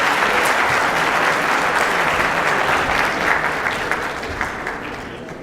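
Applause from an audience for a doctor at a veterinary animal health presentation, dense sustained clapping that holds loud and then slowly fades, with faint crowd murmur.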